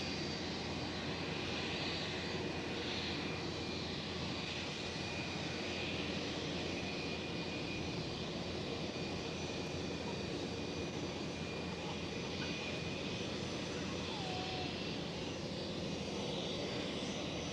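Jet airliners taxi and idle at Amsterdam Schiphol airport, a continuous distant engine rumble and whine holding level throughout with no voices.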